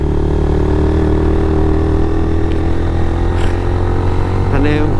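A motorbike engine strains loud and close in a low gear at high revs, climbing the steep final four kilometres of road to Sajek, a steady droning roar with rising pitch near the end.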